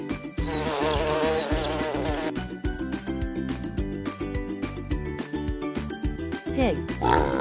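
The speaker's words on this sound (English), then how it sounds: "Honeybee." A honeybee buzzes in a continuous droning hum near the start, then gives way to an upbeat children's music track with a voice speaking.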